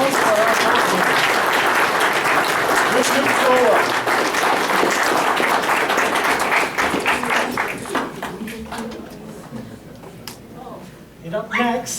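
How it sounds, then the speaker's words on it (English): Crowd applause for a cosplay costume at Bangor Comic-Con 2016, loud sustained clapping that thins out toward the end as a voice begins under it. "Applause for our costume."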